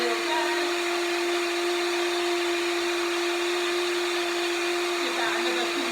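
Continuous loud whine of an electric blender whizzing eggs at speed, steady throughout with a faint voice underneath.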